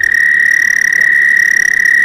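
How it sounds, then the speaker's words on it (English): An Eastern American toad trills in northern Michigan, a loud, sustained high musical trill that carries unbroken and close up, with no talk. "we have one toad in northern Michigan, the Eastern American toad"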